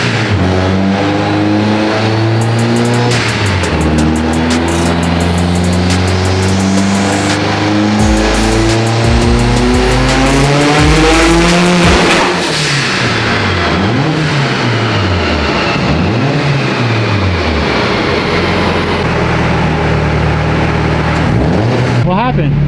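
A 2019 Subaru STI with stock rods revs hard on a dyno, its engine note climbing and dropping through repeated loud pulls, then sputtering unevenly midway as the fuel pressure regulator line lets go and the mixture runs lean.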